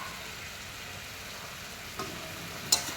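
Sauce thickened with cornflour mixed in water is stirred in a pan, making a soft, low bubbling sizzle with a couple of sharp utensil scrapes near the end.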